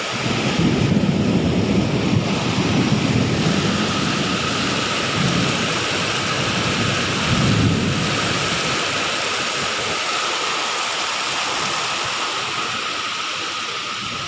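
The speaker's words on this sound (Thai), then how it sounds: "ฝนตกนะ" Heavy rain pours steadily and loudly, with deep rumbles of thunder rolling through near the start and again midway.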